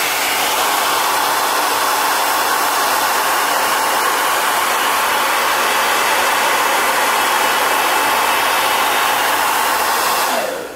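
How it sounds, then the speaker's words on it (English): Hair dryer on high heat blows steadily and loudly for the whole stretch, drying a tattoo stencil, a constant rushing roar with no speech. "So here we go, blow drying."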